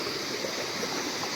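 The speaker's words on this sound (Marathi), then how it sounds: "पाण्याचं फोर्स आहे" A small stream in Konkan, Maharashtra, rushing forcefully over its bed, a steady, close hiss of flowing water with no voices.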